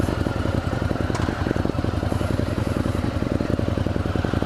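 A Ducati Monster 1100 Evo motorcycle engine is under way while riding, picked up from the rider's chest and helmet: a steady, close, pulsing rumble that holds throughout with no talking.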